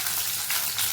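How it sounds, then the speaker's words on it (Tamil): Garlic, green chillies and curry leaves sautéing in hot oil for a mutton liver dish, giving a steady close hiss of frying with slight surges and no talking. "பூண்டு, பச்சை மிளகாய், கருவேப்பிலை கொஞ்சம் வதக்கி விட்டுக்கிறேன்."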